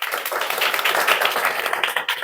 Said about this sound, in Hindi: सर के लिए एक बार ताली बजा दीजिए आप लोग